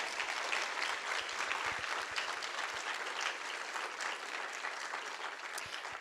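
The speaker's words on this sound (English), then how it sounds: "Can you please give them both a round of applause for their wonderful work?" Sustained applause from a moot court competition audience, steady and fairly full throughout, tapering slightly at the end.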